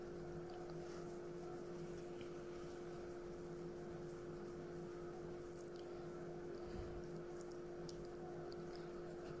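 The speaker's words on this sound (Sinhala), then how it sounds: "ඒකට බිත්තර සුදු මද දෙක දාලා මීඩියම් ස්පීඩ් එකේ හොඳින් බීට් කරන්න" An electric mixer beats two egg whites in a clean, dry bowl at medium speed for macarons, producing a constant, even motor whir that stays steady from start to finish.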